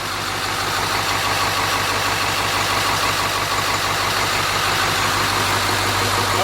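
A repaired Ford Powerstroke diesel engine idles steadily and close by, a continuous low rumble with an even mechanical chatter and no talking throughout.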